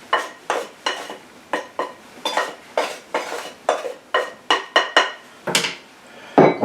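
Bowl being scraped clean while making dough, a rapid series of about fifteen close, sharp scraping and clinking strokes in an uneven rhythm, with a heavier knock near the end.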